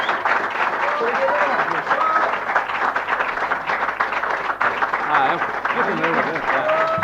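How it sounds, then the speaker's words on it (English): A folk club audience keeps up rhythmic hand clapping under a voice, with steady claps and murmured crowd sound running throughout. "Okay, keep clapping. It's called bluegrass hand clapping."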